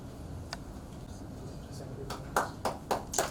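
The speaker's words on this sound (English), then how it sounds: "Ladies and gentlemen, a big round of applause" Scattered hand claps at an award ceremony for a training program launch, a few isolated claps early on, then four sharper claps in an uneven rhythm near the end over a murmuring room.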